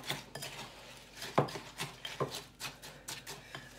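Rocky road mix with apricots and raisins being stirred in a bowl, quiet scraping and knocking of a spoon against the bowl in an irregular rhythm, close and faint.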